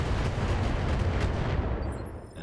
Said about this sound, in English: And now the turrets are shooting at each other